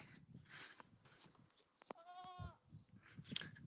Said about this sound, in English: You hear a little goat. That's because we've got 2 little goats sitting in the yard.